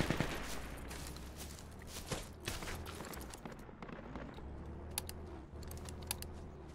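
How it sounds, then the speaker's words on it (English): Bursts of PKM and AK gunfire in the military shooter Project Reality crackle in rapid, uneven volleys, fairly distant and mixed with sharp clicks, alone without talk. "I just got gangbanged by a PKM and an AK"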